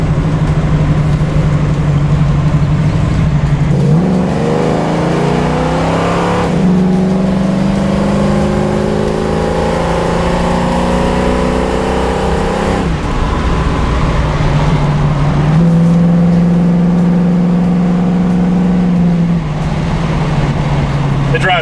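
A 1969 Ford Mustang Mach 1 driving on the road, its engine humming steadily from inside the car, with pitch rising during acceleration, dropping at gear shifts and rising again; people talk over the engine noise.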